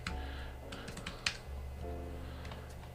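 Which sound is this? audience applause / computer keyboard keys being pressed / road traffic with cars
computer keyboard keys being pressed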